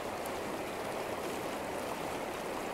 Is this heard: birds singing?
no